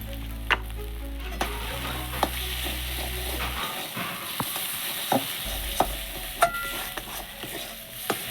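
Spice masala for a mushroom pakora curry sizzles in a pan as it is stirred, a soft steady frying hiss broken by light spoon clinks and scrapes, with no talk.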